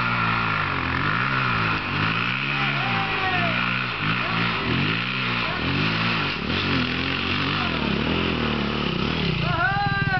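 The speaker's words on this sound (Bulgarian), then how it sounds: "Кросито го кара" A dirt bike engine buzzes and revs repeatedly at an outdoor motocross race, its pitch climbing and falling in waves, loud and close, with people talking over it.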